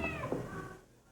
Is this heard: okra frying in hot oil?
no